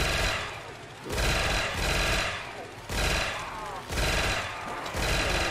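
Rapid gunfire from a Roblox shooting game in bursts of dense, loud shots roughly every second, with a brief excited voice faintly mixed in.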